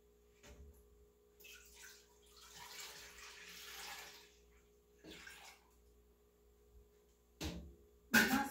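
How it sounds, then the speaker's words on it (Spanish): Milk poured into a cooking pot for guava and pineapple atole, soft intermittent liquid pouring in short bursts between quiet pauses, close and faint, ending with a louder splash. "voy a empezar por poniendo la leche aquí en esta olla donde lo vamos a hacer."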